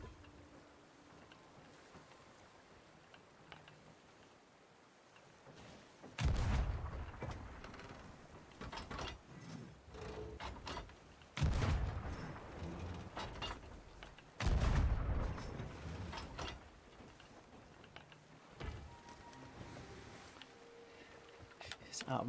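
Ship cannons firing in the pirate game Sea of Thieves, several heavy booming blasts spaced irregularly over a quiet background of creaking and water, loud against the lulls between shots.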